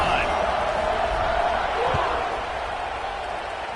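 Stadium crowd in NCAA Football 26 roars in a steady, dense wash at kickoff, loud and continuous across the whole moment, with a commentator's voice running over it.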